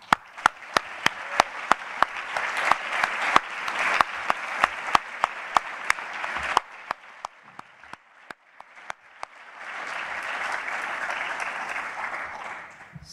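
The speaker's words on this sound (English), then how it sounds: "a huge round of applause." A conference audience at a closing session breaks into sustained applause, with sharp individual claps standing out at first before the clapping fades and swells again into a softer, more even round toward the end.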